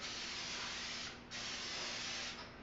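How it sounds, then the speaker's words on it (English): Aerosol cooking spray hisses in two bursts onto loaf pans, a long steady spray followed by a second one after a brief pause, close by. "I got a couple of loaf pans, which I'm going to spray real quick."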